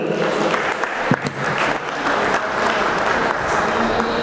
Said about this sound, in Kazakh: Қошеметтеп қойыңыздар палуандарды